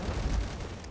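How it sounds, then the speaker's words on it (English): Gunfire in the video game Fallout, Tale of Two Wastelands, a heavy low rumbling burst of shots that rolls on steadily for about a second with no talk over it. "Gunfire."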